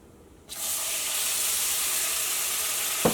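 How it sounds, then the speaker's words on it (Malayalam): Tomato hits hot spice masala in a pan for a pepper egg roast curry, setting off a sudden loud, steady sizzle that holds for a few seconds, with a brief clink near the end. "ഇനി ഇതിലേക്ക് തക്കാളിയാണ് ചേർക്കാൻ വേണ്ടിയിട്ട് പോണത്."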